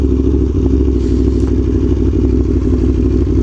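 Aprilia Tuono V4 Factory motorcycle engine droning loud and close under a steady throttle during wheelie attempts with wheelie control switched off, a constant dense mechanical roar with faint clatter and no voices.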